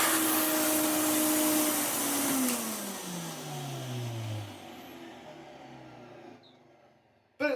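A Hoover Sensotronic Total System 20 vacuum cleaner, restored after repair, roars steadily at first, then its motor pitch falls as it winds down and fades out, alone and close.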